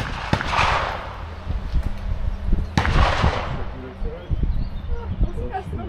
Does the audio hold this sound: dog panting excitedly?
no